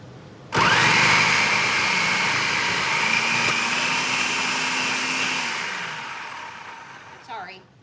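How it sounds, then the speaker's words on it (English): A food processor shreds home-grown potatoes for hash browns, starting abruptly into a loud steady whirring roar that holds for several seconds, then slowly winds down, close by, followed by a brief clatter. "I'm just taking them out a few at a time, putting them in my processor."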